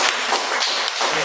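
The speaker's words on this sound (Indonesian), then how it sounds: "Jadi tepuk tangannya harus 501" Applause from a seminar audience of about 500 people at a business conference: dense, steady clapping with a few sharper taps, filling the room for over a second.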